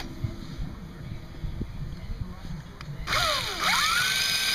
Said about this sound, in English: drilling the holes here